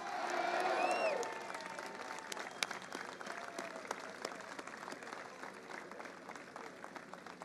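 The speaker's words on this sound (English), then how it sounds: "Let's hear it for Cardale Jones" Crowd applause and cheering at a Make America Great Again political rally, loudest at the start and then settling into steady, slightly thinner clapping that continues throughout.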